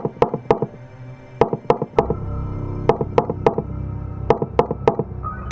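Repeated knocking from inside a wooden wardrobe in a hostel room, sharp raps in small irregular clusters of two or three, fairly close and loud, with a low rumble underneath.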